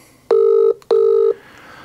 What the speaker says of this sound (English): Let me just ring them up very quickly.